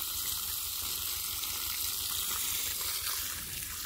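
Water pours onto dry garden soil around grapevines and soaks in, giving a steady, close hiss and trickle that fizzes like a faint sizzle, without any voices.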